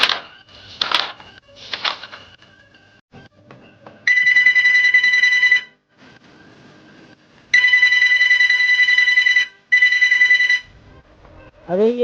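A telephone rings in three electronic trilling bursts, loud and close, with quieter background sounds and brief voices before them.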